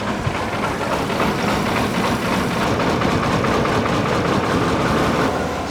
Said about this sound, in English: It's running on like 2 cylinders at idle